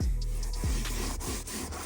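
Steady, gritty rubbing up close, a continuous abrasive scraping with repeated strokes, as sandpaper scuffs the painted surface of a truck camper.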